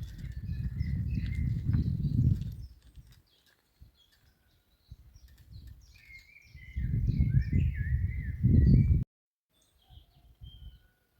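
A small bird sings in thin, high chirping phrases from a distance, softly, while bursts of low rumbling noise come and go underneath.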